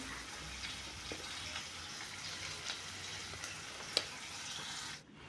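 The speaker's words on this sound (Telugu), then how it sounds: "మునక్కాయల్లో కొంచెం సాల్ట్ వేసి ఫ్రై చేసుకోవాలి" Drumsticks frying with a pinch of salt in a pan for a tomato curry, a steady close hiss and sizzle with a few faint clinks, ending abruptly.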